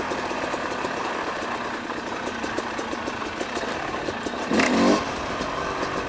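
A 2018 Yamaha YZ250X two-stroke dirt bike engine idling with a steady, rapid, buzzy putter, close by, plus a short louder blip near the end.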